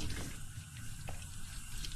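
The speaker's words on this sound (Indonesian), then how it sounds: "Keran nyala cuy." Water runs steadily from a tap, a constant splashing rush with faint clinks, fairly quiet and uninterrupted.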